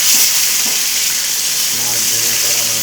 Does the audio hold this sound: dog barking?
no